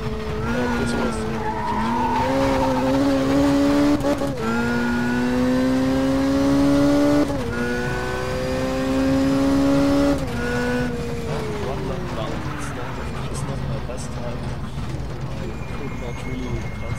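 Race car engine in STCC 2 drones steadily with rising revs, dropping pitch at gear changes and again as it slows near the end, with tire squeal mixed in; someone talks over the driving throughout.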